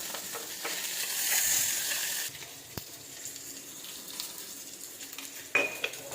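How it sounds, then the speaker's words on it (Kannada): Onions frying in oil in a pan: a soft sizzle rises at first, then fades to a quiet hiss broken by occasional utensil taps and one sharp clink. "ಎಣ್ಣೆ ಈರುಳ್ಳಿಯನ್ನು ಹಾಕಿಕೊಳ್ಳೋಣ."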